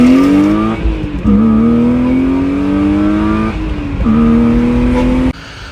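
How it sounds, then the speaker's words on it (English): A BMW E36 M3 with a new AFE intake, heard from inside while driving, its engine loud and close as it revs up through gears, with the pitch climbing steadily and dropping at each shift. "we're going to go for a drive, make sure everything works okay"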